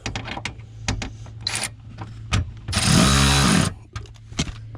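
A power tool whirs for about a second backing out a 7 mm bolt from a Pontiac Grand Prix panel, loud and close, surrounded by clicks, taps and handling knocks of work in the car.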